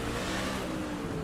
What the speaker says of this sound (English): You heard him on the gas, right back off of it before he ever gets to the finish line